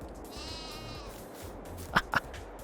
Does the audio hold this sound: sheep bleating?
yes